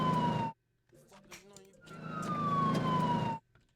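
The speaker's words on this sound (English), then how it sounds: "Then I added this ambulance." An ambulance siren sound effect wails in descending sweeps within a beat, cut off briefly by a short gap with a voice, then returning loud and close.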